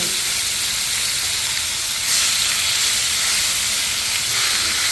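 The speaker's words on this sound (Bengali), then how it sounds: "আমি মাছগুলো ভাজার জন্য দিয়ে দিয়েছি" Koi fish pieces frying in a pan, a steady broadband sizzle and hiss throughout with a brief louder surge partway as a piece is flipped; no talking.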